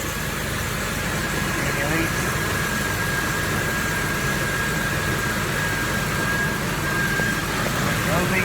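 A 1991–2006 Jeep Wrangler 4.0L engine idles with a steady low rumble and a thin constant whine from the engine bay, while a nearby person speaks briefly over it.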